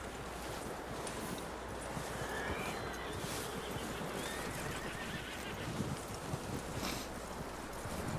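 A horse in the Western open-world game Red Dead Redemption 2 whinnies and clip-clops close by, set against a steady bed of outdoor ambience and wind-like noise.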